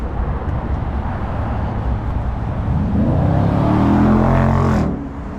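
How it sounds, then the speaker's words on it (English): A car passes on a street near the Brooklyn Bridge in New York, its engine and tire noise swelling to a loud close pass over a few seconds, then cutting off sharply against steady city traffic hum. "that was a car going by"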